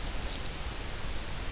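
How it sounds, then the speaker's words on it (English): Rain falls steadily outdoors, a dense even hiss of drops filling the whole clip with no pauses and no voices. "Raining again, guys."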